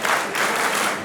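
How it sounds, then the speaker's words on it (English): Wrestling crowd at an independent show in Perth roaring and chanting together, a dense, loud wash of many voices with rhythmic swells across the whole second, no single voice standing out. "Crowd chanting, "This is awesome.""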